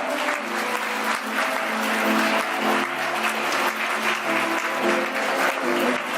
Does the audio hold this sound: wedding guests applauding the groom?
yes